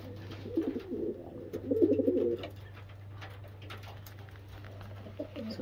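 Racing homer pigeons coo in low, repeated throaty bursts, close and fairly loud at first, then softer coos continue over a steady low hum.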